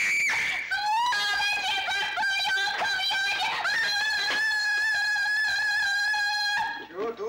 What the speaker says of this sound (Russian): Чего орёшь?